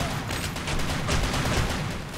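Dense, continuous gunfire from a video game, a loud, steady rattling fusillade with no distinct gaps, heard without speech.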